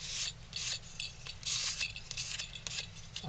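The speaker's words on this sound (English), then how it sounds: "I'm going to take 220 grit sandpaper and I'm going to lightly sand over this" Light hand sanding of a carved wooden ventriloquist dog figure with 220 grit sandpaper, a series of close, soft rasping strokes in an uneven back-and-forth rhythm, no talk.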